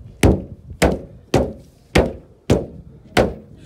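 A hammer beats out the dented roof of a rolled-over Fiat Uno, six loud, evenly spaced thuds on sheet metal at a steady pace, close up with no talking.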